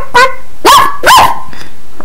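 A person imitates a dog barking, giving a few distinct bark-like yelps one after another, close and loud, with no other sound around them.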